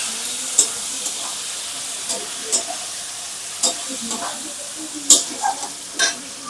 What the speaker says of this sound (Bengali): এবার এর মধ্যে আমি দিয়ে দেবো টুকরো করা চিকেনগুলো।